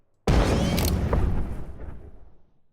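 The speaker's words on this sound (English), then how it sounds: "a far-off pop" A far-off rocket explosion pop made for a game with wavetable synthesis, a single sudden burst that booms briefly and then fades into a long, thinning rumbling tail.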